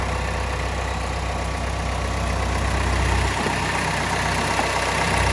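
A Subaru Forester 2.0 diesel 4x4 idles smoothly under the open bonnet, a steady even low rumble with a constant tone that does not change over the few seconds, and no talk over it.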